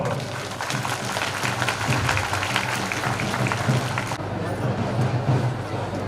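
An audience claps steadily in a dense, continuous patter at a kalash yatra procession during a Gayatri mahayagya in Dharamjaigarh, with chanting voices running over it throughout.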